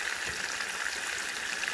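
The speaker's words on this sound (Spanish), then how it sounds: "Están friendo los pescados." River mojarra fish frying in hot oil give a faint, steady, even crackling sizzle with no voices.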